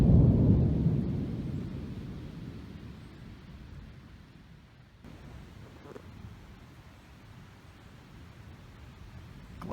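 Thunder rolling over a river as a storm moves in, a deep loud rumble at the start that fades into a long low roar with wind, no voices.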